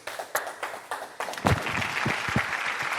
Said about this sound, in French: Les gars, applaudissez un peu pour mon bébé, s'il vous plaît